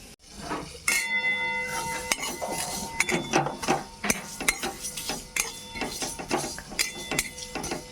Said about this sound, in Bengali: এই যখন ফুটতে শুরু করেছে সর্ষেটা